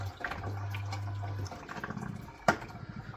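An aquarium filter motor hums steadily with water trickling and splashing in a home fish tank, then the hum cuts out midway, leaving softer water movement and a brief knock near the end; no speech.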